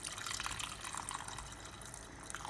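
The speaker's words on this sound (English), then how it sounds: "Put our hot water in there." Hot water pouring from a pot or kettle into a pot of chicken curry on high heat, a quiet, continuous splashing and gurgling stream throughout.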